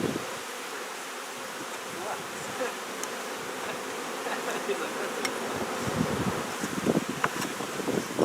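Honey bees droning around an open hive during queen rearing work, a dense continuous buzz nearby with light wind and rustling, individual bees passing closer now and then, no speech.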